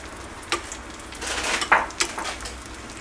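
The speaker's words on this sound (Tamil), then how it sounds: "நெய்யில் முந்திரியும் திராட்சையும் வறுத்துக்கலாம்." Cashews and raisins frying in ghee for sweet boondi, a soft steady sizzle with a few sharp spoon clinks and scrapes against the pan, close and without talking.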